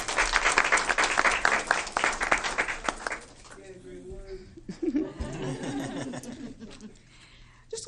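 An audience at a school board meeting claps loudly and densely for a few seconds, then the applause fades into scattered chuckles and laughter with voices talking nearby.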